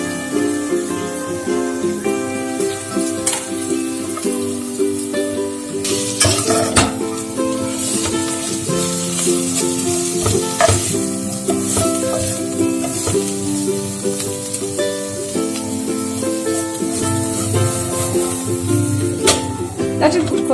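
Ridge gourd and its peels frying in a hot pan, a steady close sizzle with stirring scrapes and clinks throughout, over a faint melodic background and occasional talk.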